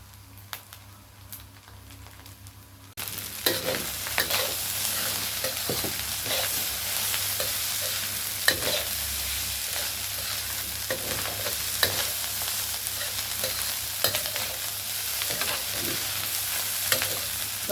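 Fried rice with naem (fermented pork) stir-fried in a hot pan: a steady, close sizzle with scraping stirring strokes starts after about three quiet seconds and continues without letup.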